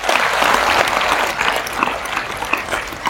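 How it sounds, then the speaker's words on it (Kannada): An audience at a motivational programme breaks into dense, sustained clapping that stays fairly loud and even for a few seconds, with no speech over it. "ಚಪ್ಪಾಳೆ ಹೊಡಿಬೇಕಿತ್ತು ನೀವು"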